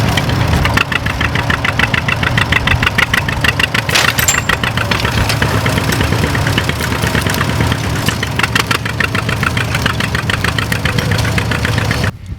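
A 1944 Fordson tractor engine runs steadily at a vintage tractor show, a loud, continuous low chugging idle with a regular knocking rhythm that holds for the whole stretch before cutting off at the end.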